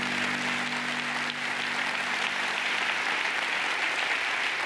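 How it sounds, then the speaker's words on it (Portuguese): A church congregation claps for the Lord during a televised evangelical service, a broad, steady burst of many hands, close and even, with a low hum underneath early on. "vamos aplaudir ao senhor"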